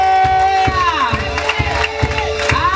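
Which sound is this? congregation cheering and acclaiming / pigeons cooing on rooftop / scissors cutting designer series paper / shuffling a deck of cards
congregation cheering and acclaiming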